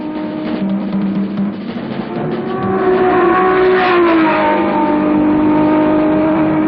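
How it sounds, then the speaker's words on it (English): Ford Cortina race cars at full speed on the Sebring circuit, engines roaring loud and near, pitch climbing and falling as they accelerate and shift, with no talk. "Cortina's 15 and 16 hold their class position far ahead of the rest as they head for the outfield"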